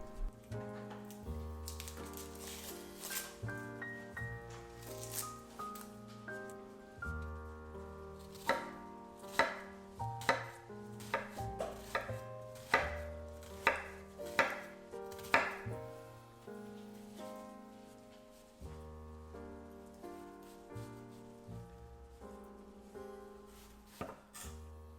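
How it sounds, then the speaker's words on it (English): Red onions chopped with a knife on a board, a run of crisp, quick cuts that speed up in the middle stretch, set under steady background music. "Peel and chop the red onions."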